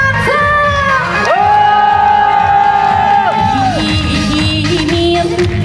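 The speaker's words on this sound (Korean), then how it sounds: "함성" Crowd cheering at an outdoor trot music concert at an outlet mall, a loud mass of shouts and whoops from a nearby audience with a sustained sung or shouted voice rising through it and music underneath.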